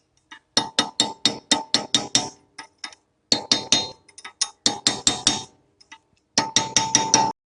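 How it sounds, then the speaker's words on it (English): Light hammer taps on a wheel bearing of a fourth-generation Mitsubishi Pajero, sharp metallic clinks in quick, steady runs that pause briefly and resume, close and crisp with no talking. "Again, a little tap."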